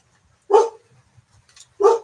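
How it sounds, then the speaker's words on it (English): A stressed dog gives two separate sharp barks roughly a second apart, fairly close and loud, with quiet background between them and no talking. "I don't want the dog to be stressed out that much."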